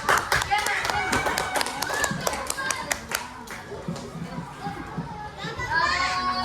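Schoolchildren in an elementary classroom clap their hands together in a quick rhythmic burst amid lively kids' chatter, the clapping fading as the voices continue.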